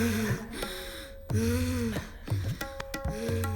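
A person pants heavily in a comedy scene, a run of loud, voiced, rhythmic gasping breaths close to the mic with no speech.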